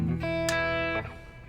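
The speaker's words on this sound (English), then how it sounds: "And a little reverb." Electric guitar played through an amp into a Randall cab, master at 12 o'clock with everything else dimed and a little reverb: a sustained distorted chord rings brightly, then a second attack cuts off and a short reverb tail decays.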